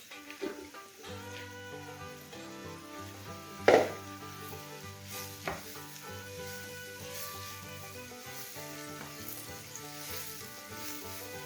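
Chopped mushrooms frying in a pan with roasted peppers, sizzling, with music playing over it and a couple of clattering utensil knocks.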